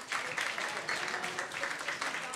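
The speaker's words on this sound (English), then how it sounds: "give yourselves a good, great big applause" Applause from an audience at an evening benefit event, a steady wash of many hands clapping at moderate level with faint voices mixed in, continuing throughout.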